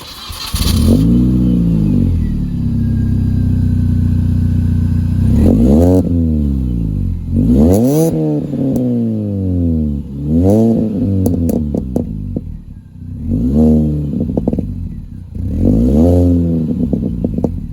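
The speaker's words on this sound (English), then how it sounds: "Yes, it's a very pop and bangy exhaust." A Mini Cooper S R53 fitted with a Toyosport exhaust revs hard in repeated bursts, each rise in pitch dropping off into pops and bangs on the overrun, loud and close with short pauses between blips.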